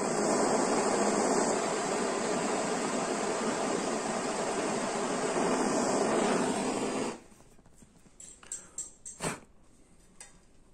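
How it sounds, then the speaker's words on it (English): A gas torch roars steadily while a brass pipe and rod are soldered together, a loud constant hiss for about seven seconds before cutting off, followed by a few light metallic clinks and taps. "Solder the pipe and rod together."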